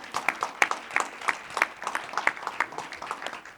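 An audience at the ninth edition of a crossover film festival claps for a trailer just screened, with scattered, distinct hand claps from a modest crowd, steady but uneven in rhythm, with no voices over it.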